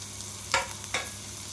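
Capsicum and liver fry in a pan under a faint steady sizzle, cut by two short scraping stirs about half a second apart.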